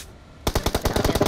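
Automatic gunfire in a mobile shooter video game, a rapid burst of about a dozen sharp evenly spaced shots starting abruptly after a short quiet lead-in.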